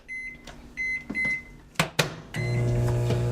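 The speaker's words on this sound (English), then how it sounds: "They put the plastic container straight into the microwave." A microwave oven gives several bright beeps, a door clunks shut twice, and then a steady, close hum starts as it runs with a plastic container of pasta inside.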